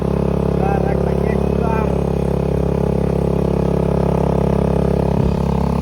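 A motorcycle engine idles and revs steadily, loud and close throughout, while people talk and call out over it at a celebration.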